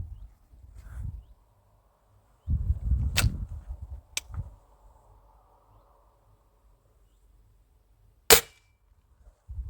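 A pellet rifle fires at a plastic bottle: one sharp, loud crack rings out near the end, with a couple of thinner clicks and low rustling handling noise earlier.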